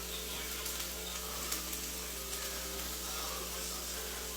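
Chicken frying in a pan for orange chicken, a steady, even sizzle with a constant hiss, faint and continuous with no breaks.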